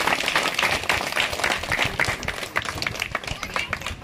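A crowd applauding, dense overlapping claps that continue steadily for a few seconds, fairly close.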